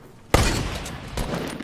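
A single sharp gunshot in the video game Fortnite, a loud close burst with a decaying tail and a fainter second report about a second later.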